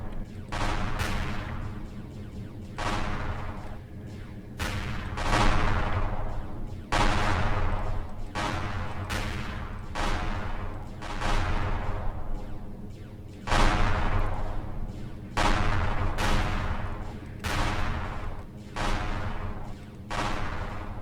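Plasma cannons and turret guns fire in bursts during a fight with the Ansari Manta ship in Empyrion Galactic Survival, a dense run of loud repeated blasts with short gaps between volleys.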